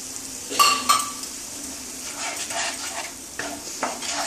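Chickpea ghugni with tomato ketchup being stirred as it fries in a pan, a soft continuous sizzle broken by clinks and scrapes of a spoon against the pan, loudest near the start.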